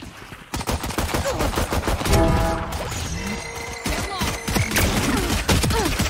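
Rapid gunfire in a Valorant team deathmatch, with continuous automatic bursts and sharp cracks crowding together over several seconds, close and loud, with occasional metallic clanks between volleys.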